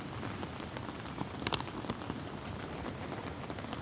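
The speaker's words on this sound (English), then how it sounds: "It hasn't stopped at all today" Steady heavy rain pours on a campsite during a severe storm beside a rising creek, a constant dense hiss of drops with a few sharper patters on nearby surfaces, continuous and unbroken throughout.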